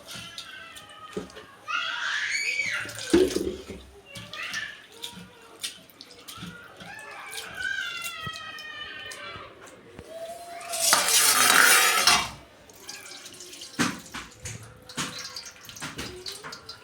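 Water splashes and sloshes in a bowl while flattened rice (poha) is rinsed by hand, with a stronger gush midway and voices talking now and then.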